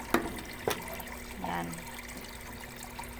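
A washing machine at a laundry fills with water, a gentle trickling pour under a couple of sharp clicks and a brief spoken word.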